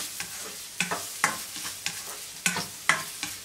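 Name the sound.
ginger sautéing in a pan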